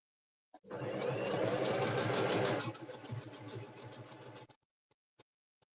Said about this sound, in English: Make sure I don't stitch the pleat.